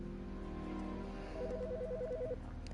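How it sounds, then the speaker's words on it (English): A telephone in the video game Autopsy Simulator rings with a warbling electronic trill that starts partway through and repeats for about a second, fairly faint over a low ambient hum. "The fucking phone."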